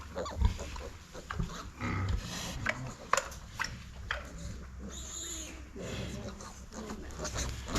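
Young gilt piglets on a farm, giving scattered grunts and short oinks amid rustling and shuffling, with a voice talking over part of it.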